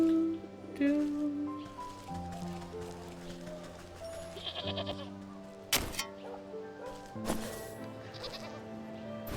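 Sheep in the video game Wytchwood bleating several times over light, tonal game music, with a couple of brief sharp effects in between.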